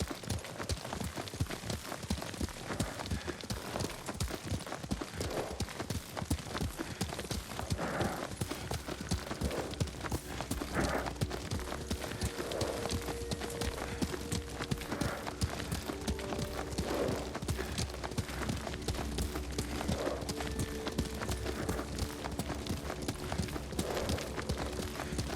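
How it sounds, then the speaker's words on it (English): A horse in the video game Ghost of Tsushima gallops in a fast, rhythmic clip-clop that slows into looser hoofbeats, set against an ambient background with faint tonal game sounds. "Lord Sakai taught me to ride a horse."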